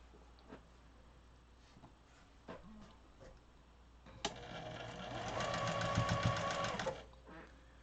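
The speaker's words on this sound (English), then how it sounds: "I think I'll sew all these little pieces first" A sewing machine stitches little quilt block pieces together in a short steady whirring burst of rapid needle clatter, preceded by faint clicks and handling noises in a quiet room.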